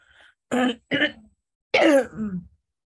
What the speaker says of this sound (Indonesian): Saya masih batuk sekali nih.